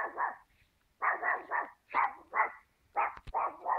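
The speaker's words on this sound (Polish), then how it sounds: "Boguszka, nie szczekuj, no." A dog barks in quick clusters of two or three yaps with short pauses between, about a dozen barks in all, fairly close, outdoors during a June thunderstorm in Radom.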